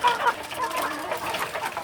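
Free-range village chickens cluck nearby in short, irregular bursts, several hens calling over one another in a backyard flock close to the listener.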